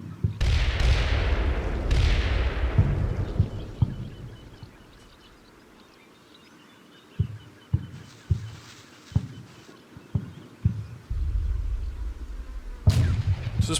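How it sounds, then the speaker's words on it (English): Heavy gunfire directed at a BMP-3 in the Combat Mission war game: booming cannon or artillery-like blasts with long rumbling decay, then a run of spaced sharp shots, fairly loud and without talk. "They're putting heavy fire on that BMP3 out there."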